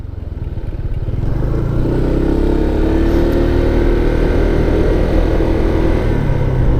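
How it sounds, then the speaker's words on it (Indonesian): A 2024 Honda PCX 160 scooter engine runs steadily after a short build-up, with a loud, continuous mechanical rattle and drone from worn CVT rollers or sliders, and no talking. "Ini either bunyi roller oblak atau slider oblak"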